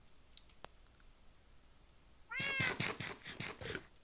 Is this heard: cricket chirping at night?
no